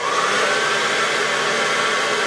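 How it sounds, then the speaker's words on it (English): A blow dryer runs steadily at close range, heating a polymer clay monster tooth, with a constant airy whoosh that cuts off abruptly at the end. "With a blow dryer, I'm gonna add some heat on top of my tooth."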